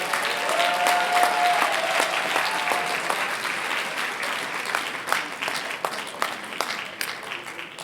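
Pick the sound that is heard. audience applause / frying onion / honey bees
audience applause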